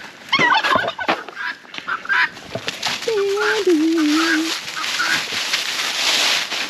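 Birds calling outdoors on a cold day, loud gobbling and honking fowl calls in bursts close by, with a long wavering call in the middle and rustling between calls.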